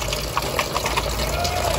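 Water runs steadily into a washing machine filling for its wash cycle, a continuous close gush with a faint pump-like hum and no break across the short stretch.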